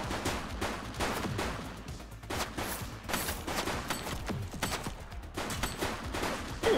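Gunfire from The Precinct, dense rapid shots in a sustained fusillade that cracks continuously and loudly for several seconds with no speech.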